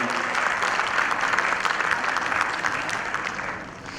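Steady, loud audience applause fills a certificate distribution ceremony at an IT school, continuous dense clapping throughout with no break.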